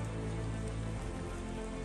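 Rain falls steadily at Hokitika Gorge on New Zealand's West Coast, a dense, even hiss of drops that stays constant and fairly loud with no voices.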